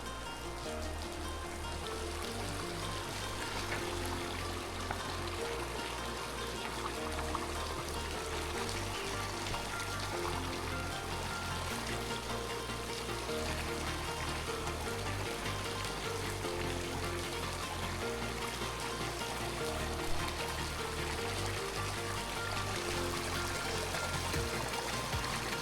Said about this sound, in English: Got like a waterfall thing going on here.